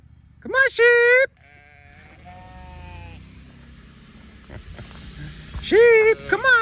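Sheep bleat loudly in two bursts of several wavering calls during a farm drive of sheep and cattle, with a quieter stretch of other bleats and rumbling movement between them.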